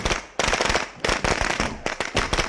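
Grenade blast in the zombie survival video game State of Decay 2, a loud close burst of crackling explosive pops in rapid clusters, filling the moment on its own.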